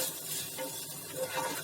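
Ghee mixture for dal makhani being stirred in a pan, a soft continuous scraping and gentle sizzle with small clinks of the spoon against metal, close and fairly quiet.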